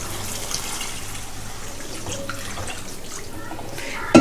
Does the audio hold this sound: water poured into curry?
yes